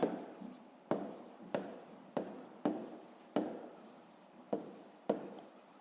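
Pen strokes scratch across notebook paper in short, repeated bursts, roughly nine quick scribbles with brief pauses between, close and quiet with no talking.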